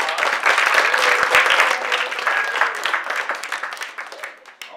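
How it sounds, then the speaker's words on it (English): An audience applauds at a Black History Month youth event at Gracie Mansion, with children, teachers and parents present. Dense, lively clapping holds steady, then thins and fades toward the end. "Let's give them a round of applause."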